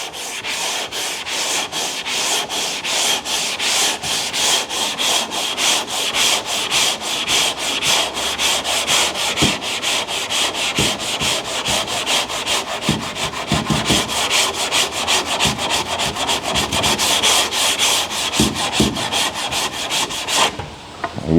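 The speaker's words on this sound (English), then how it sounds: "You don't gotta work hard, you just gotta let the sandpaper" Car bodywork being sanded by hand with sandpaper: steady, rhythmic back-and-forth rasping strokes, loud and close, continuing for about twenty seconds with no talking.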